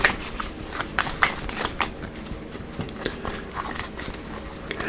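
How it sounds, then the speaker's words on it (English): Tarot cards are shuffled by hand in quick, crisp riffles and flicks, close up, with a steady papery rhythm throughout. "shuffling heart cards is challenging"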